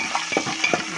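Chana dal, urad dal, cumin, mustard seeds and dried red chilies sizzle in hot oil for a tempering, with crackling pops and the scrape of stirring, close and lively.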